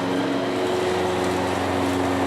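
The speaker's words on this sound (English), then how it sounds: "Hopefully you can hear me over the lawnmower." A lawn mower engine drones steadily and evenly throughout, a constant mechanical hum with no pauses.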